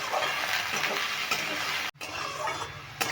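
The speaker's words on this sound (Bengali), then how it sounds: "এই আলুগুলো প্রথমে আমি তিন মিনিট মতন ভেজে নেবো" Potatoes frying in a pan for a Bengali mochar dalna: a continuous close sizzle with stirring scrapes, a brief break partway through, then sizzling again without any voices.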